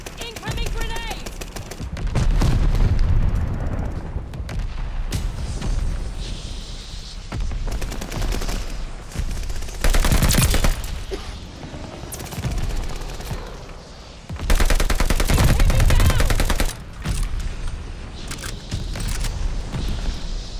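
Gunfire from the online shooter Call of Duty Vanguard in a team deathmatch: rapid automatic bursts and single shots come in repeated loud clusters, mixed with game voice callouts and effects.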